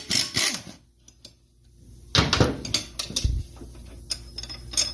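Wrench working on the bolt that holds a lawn mower blade: scattered metallic clicks, ratcheting taps and clunks, close and fairly quiet, with brief louder knocks midway.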